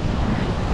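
A strong, steady wind roars across sand, filling the short stretch with broadband rushing noise and microphone buffeting.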